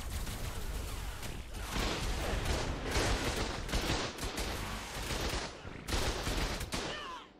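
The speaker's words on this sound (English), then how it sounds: "I think I'm gonna put the rocket launcher in there and then try to go with the rocket launcher." Rapid, dense gunfire and explosive blasts rattle almost continuously during a base raid in the Ark: Primal Fear video game, loud bursts layered over one another with brief dips, no talking heard.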